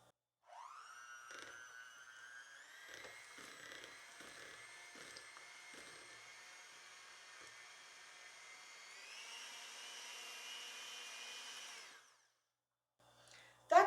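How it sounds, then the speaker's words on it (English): An electric mixer creams butter for raisin nut cookies, its whine starting, rising in pitch in steps, holding for several seconds, then cutting off before a brief clatter. "So we're going to cream this up with our blender."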